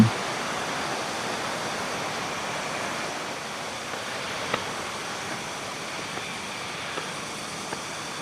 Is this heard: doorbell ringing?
no